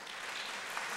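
Brief burst of steady audience clapping at a university doctoral hooding ceremony, a dense even patter of many hands heard from a distance.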